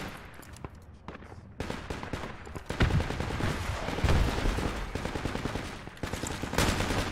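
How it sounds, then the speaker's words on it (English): Dense bursts of rifle and machine-gun fire from a Project Reality military battle, a steady mix of near and distant shots that grow louder partway through, with no talk over them. "Jokerr, they're shooting at you from northwest."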